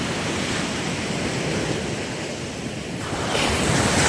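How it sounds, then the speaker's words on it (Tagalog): Big ocean waves crash and roll onto the shore under a dark, stormy sky, a steady loud surf roar with wind noise that swells louder near the end. "Gawa ng malalaki na uli yung alon dito"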